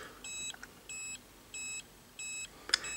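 Four evenly spaced high-pitched electronic beeps from an SRP-68-01 scintillation dosimeter's alarm test, each about a third of a second long, followed by a brief click, heard close up against a quiet background.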